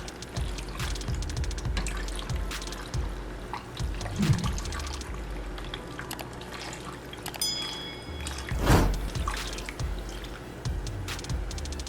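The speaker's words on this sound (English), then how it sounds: "And then we're going to add in our 1 liter of water." One liter of water is poured into a cooking pot, with a continuous liquid splashing and trickling sound, fairly close and steady, and occasional clinks in between.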